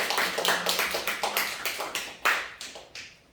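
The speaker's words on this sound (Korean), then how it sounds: "하나님께 영광의 박수 올려드립니다" A small Korean church congregation at Sunday worship claps in a steady, rhythmic beat, the individual claps distinct and fairly close, slowing and fading out after about three seconds.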